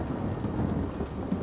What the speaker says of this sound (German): Oh, jetzt ist der Regen anders gefallen.